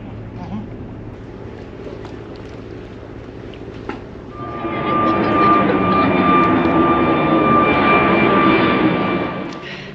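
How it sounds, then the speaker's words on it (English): A TUI passenger jet departs Heraklion Airport in Crete, heard from a nearby breakwater: quiet outdoor ambience, then a broad engine roar swells in after a few seconds and holds steady and loud to the end. "the next departure from Heraklion Airport is a TUI flight to Munich"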